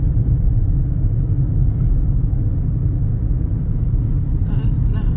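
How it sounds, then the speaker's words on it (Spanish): Heavy traffic rolls through town streets as a continuous low rumble of car engines, close and dense, with a brief higher whine near the end. "Por acá por el pueblo está el tráfico un poquito pesado"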